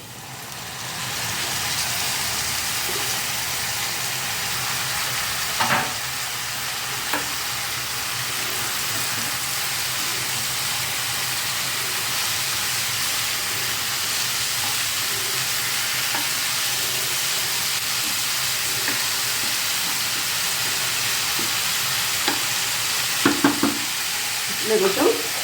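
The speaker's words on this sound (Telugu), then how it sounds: "ఇప్పుడు ఈ ఎర్ర తోటకూర అండి 1 కప్పు వేస్తున్నాను" Red amaranth leaves fry in a pan with a continuous close sizzle, broken by occasional stirring scrapes and clinks that grow busier toward the end.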